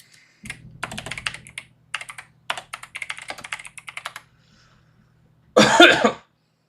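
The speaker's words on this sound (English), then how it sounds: "So I got a bit of a cough." A short burst of typing clatters on a keyboard, then after a pause a single loud, harsh cough bursts out close to the mic.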